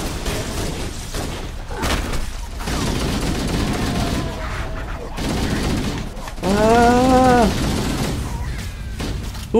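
Gunfire aimed at the player in Halo comes as bursts of shots over a busy battle din, pausing briefly between volleys, with a rising and falling tonal whine near the end.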